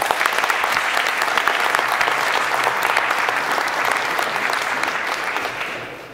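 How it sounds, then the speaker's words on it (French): At a veterans' association general assembly in the Paris 15th arrondissement town hall, an audience claps for the flag bearers with warm, sustained applause that fades away at the end. "Oui, on peut les applaudir les porte-drapeaux"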